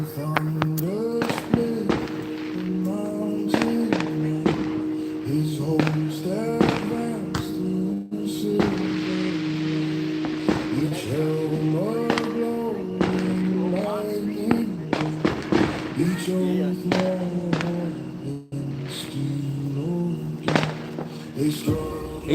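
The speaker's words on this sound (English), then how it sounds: "He's got a few more big fireworks that he's gonna let off" Big fireworks let off outdoors on Independence Night, a long run of sharp bangs and crackling bursts at irregular intervals, some near and loud, with whistling rises and people talking throughout.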